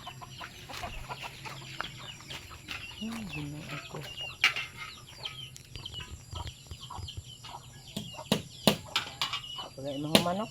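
Chickens cluck and squawk close by in a busy yard, with scattered bird calls and people talking in the background.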